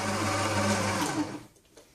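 A stand mixer whips meringue at high speed, a loud steady motor whir with beater churn that runs for over a second and then winds down to quiet.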